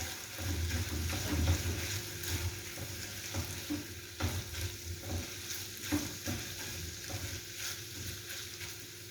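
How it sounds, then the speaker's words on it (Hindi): Minced meat cooking with tomato paste and capsicum is stirred in a pan, giving a low steady sizzle with soft, irregular scraping strokes. It is fairly quiet and close, with no voices. "अब इसके अंदर टमाटो पेस्ट ऐड करेंगे और साथ ही मैं शिमला मिर्च ऐड करूँगी और इसको मिक्स करेंगे कीमे के अंदर।"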